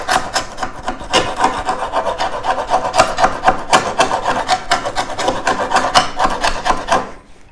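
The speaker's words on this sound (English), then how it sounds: "So we just take our scraper" A hand scraper rasps old flooring mastic off the wooden floor of a 1940s trailer being restored, in quick, loud, rhythmic back-and-forth strokes close by that stop abruptly at the end.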